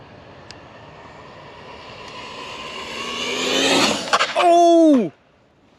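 A Cobra 10 RC car builds from a faint distant whine into a loud rising rev as it nears, then screams past with a sharp pitch drop before cutting off abruptly; a brief voice cries out at the peak.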